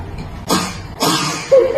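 A young boy gives a fake cough to his father at a family dinner table in Beijing, two short staged coughs, close and fairly loud, followed by a brief voiced sound at the end.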